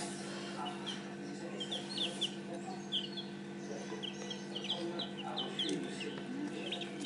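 Day-old chicks peep steadily in soft, high, scattered chirps throughout, close by over a constant low hum, with no talk.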